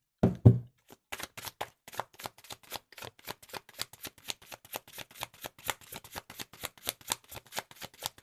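Tarot cards being riffled and tapped down in a long run of quick, sharp clicks, close and fairly quiet, with one louder thump at the start.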